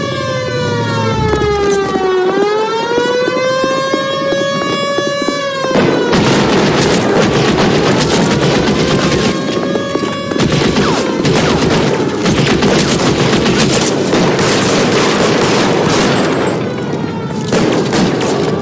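Gunfire from a shootout in the video game L.A. Noire: a long rising and falling siren wail opens, then a dense, loud stream of rapid shots and bursts continues without a break under the siren.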